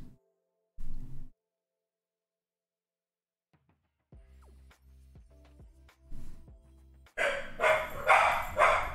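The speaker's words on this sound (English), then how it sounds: "Doggies are going crazy." Several dogs bark at the front door of a house on a dark Halloween evening, starting with a couple of isolated barks, then a sparse run of sharp barks that builds into a loud, frantic burst of overlapping barking at the end.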